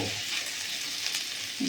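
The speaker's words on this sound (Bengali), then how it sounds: "ভাজা ফুলকপি আর আলুটা দিয়ে দিয়েছি। অল্প নাড়াচাড়া নিয়ে পনিরগুলোও দিয়ে দেবো।" A faint, even sizzle rises from a pan of fried paneer, cauliflower and potato, with soft scraping and rustling as the mixture is stirred, all without speech.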